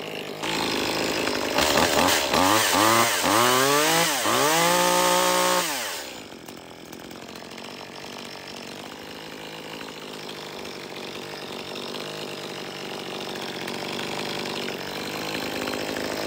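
ECHO CS-2511T micro chainsaw fresh out of the box, its engine revving up and down in loud rising whines for several seconds before dropping to a steady lower idle.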